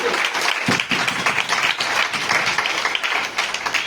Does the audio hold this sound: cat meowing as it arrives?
no